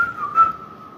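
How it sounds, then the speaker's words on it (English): A person whistles a short tune along to the Andy Griffith Show playing in the background, a thin, clear single note that wavers briefly, close and alone. "so that's where the whistling came from"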